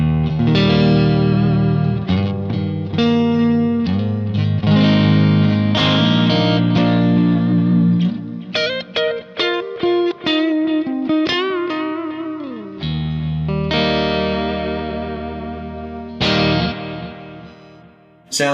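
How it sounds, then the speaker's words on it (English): Gold Stratocaster electric guitar through a Kemper Profiler Stage with a Tweed Twin amp profile, chords strummed and ringing, then quicker picked single-note phrases, loud and alone with a slight effects sheen. "I'm playing that gold Strat that you saw a minute ago"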